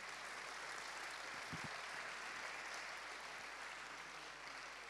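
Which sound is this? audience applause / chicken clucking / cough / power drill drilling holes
audience applause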